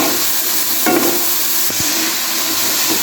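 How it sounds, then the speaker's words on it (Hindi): Spices, peas and cauliflower stalks sautéing in a pan for gobi matar, a steady broad sizzle with a few scraping stirs near, no talk. "तभी इन मसालों के सारों को हम भूनेंगे, साथ ही मटर भी भून जाएंगे।"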